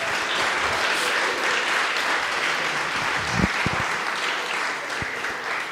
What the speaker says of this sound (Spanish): Un aplausito, sí, está bien.